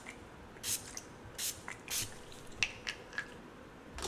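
Short hissing bursts of makeup finishing spray are misted onto a face, several quick spritzes in an irregular rhythm, close and fairly quiet.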